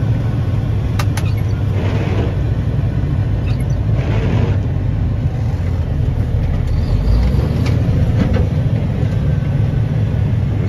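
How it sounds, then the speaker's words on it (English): A tractor trailer's engine with a 10-speed manual transmission rumbles loud and close as the driver downshifts, a constant heavy drone with slight swells in revs. "I wait till 20 and downshift to six."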